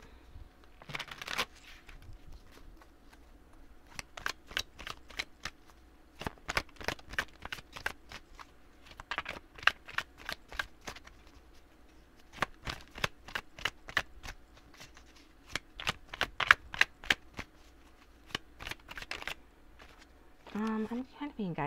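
A tarot card deck is shuffled in repeated bursts of quick, crisp riffling and flicking, close and clear, separated by pauses, while a person speaks softly between and over the shuffles.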